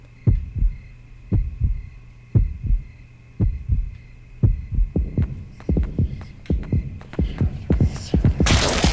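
Heartbeat sound effect in the horror video game Yomawari: Night Alone, steady low double thumps over a constant hum, speeding up and growing denser toward the end.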